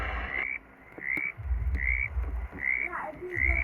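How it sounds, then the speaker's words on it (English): Frog croaking from a pond in the Roblox game 99 Nights in the Forest, a repeating series of short, evenly spaced croaks over a low rumbling game background. "Something is emerging from the ponds. There's a frog."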